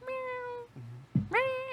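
A person imitates a cat, giving two drawn-out, nasal meows with a short low vocal sound between them, close and clear.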